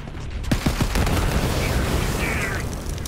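Gunfire in the shooter Borderlands 3, with a quick run of close rapid shots at the start giving way to a dense, rumbling roar of battle and explosions and a faint electronic whine, without speech.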